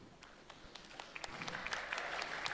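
Stand-up comedy audience clapping, starting sparse and faint, then building into quiet, denser applause from a small crowd.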